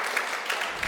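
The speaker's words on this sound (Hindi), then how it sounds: "ताली जरा बजाओ रे" An audience at a Hindi comic poetry recital (hasya kavi sammelan) applauds, a dense, even patter of many hands with a few sharper claps standing out. It is moderately loud and runs unbroken for the whole moment.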